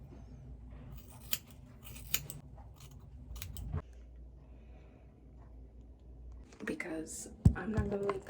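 Scissors snip through hair in a quiet room, with scattered crisp cuts and a cluster of louder snips near the end, plus faint rustling and handling noises between them.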